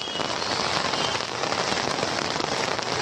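Torrential rain in Kalyan pelts an umbrella, giving a thick, constant roar of close, crackling drops, loud throughout with nobody talking.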